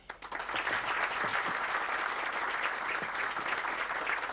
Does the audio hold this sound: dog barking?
no